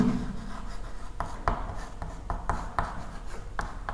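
Marker or chalk writing on a board during a chemistry lesson, with steady scratchy strokes and a few sharper taps repeating across the stretch, close and fairly quiet, with no speech.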